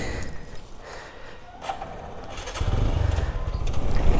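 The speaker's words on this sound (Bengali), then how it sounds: "ওয়েট, আগে বাইকটা স্টার্ট দেই।" A TVS Apache RTR 4V motorcycle with a badly worn chain cranks and fires up midway, its engine settling into a loud, close, throbbing idle that continues to the end.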